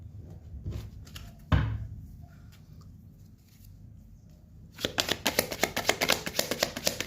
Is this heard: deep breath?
no